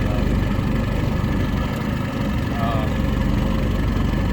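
A 1958 Mercury Mark 28 22hp outboard motor fitted with a different propeller runs at a steady, loud, rough idle with a throbbing low rumble throughout.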